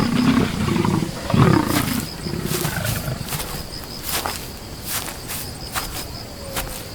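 Lions roar in the wild, a deep rumbling roar swelling early and fading into repeated lower grunts over a steady background of insects and crickets.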